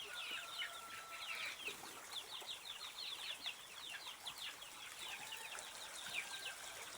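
Black chickens in a backyard coop, a breeding group of hens and a rooster, produce a steady busy chatter of clucks and short calls with some wing flapping, fairly close and continuous throughout.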